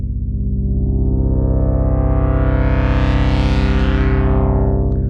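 An Arturia PolyBrute 12 synthesizer sustains a loud, dense, buzzing chord that steadily brightens and swells as key pressure rises, then eases back near the end.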